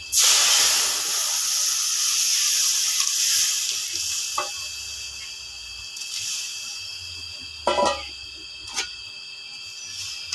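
Dal poured into a hot pan with chopped garlic sends up a loud, steady sizzling hiss that eases over several seconds, broken by a few sharp crackles and clinks near the end.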